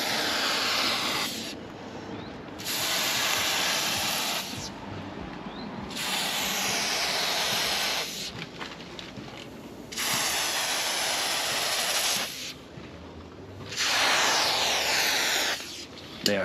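Rust treatment sprays through a nozzle onto a trailer being restored, coming as about four long, close hissing bursts a few seconds each, with quieter pauses between.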